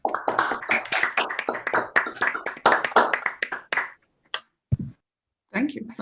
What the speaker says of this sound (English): if everyone can unmute yourself, and then I'll count to 3, and then we'll all clap